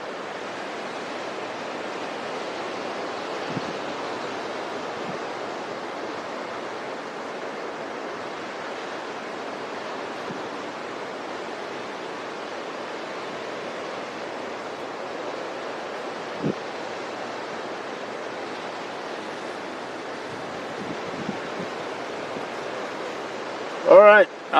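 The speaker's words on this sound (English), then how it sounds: "Sorry, we got a lot of wind too." Strong wind gusting across coastal dunes near the SpaceX Starbase launch site in Texas, a steady loud broadband rush that holds for the whole stretch, with a brief rustle near the end.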